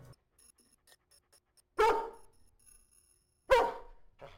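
A dog gives two sharp, close barks separated by a pause of over a second, with faint panting and small noises in between.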